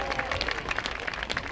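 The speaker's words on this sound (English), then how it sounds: "Another round of applause for Akshay" Crowd applause at an outdoor high school football game, Trenton Central Tornadoes at Robbinsville Ravens, a steady spread-out clapping from the stands with some voices mixed in, moderately loud throughout.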